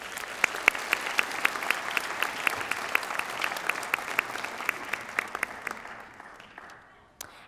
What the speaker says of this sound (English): Let's give each of them a round of applause for their generosity.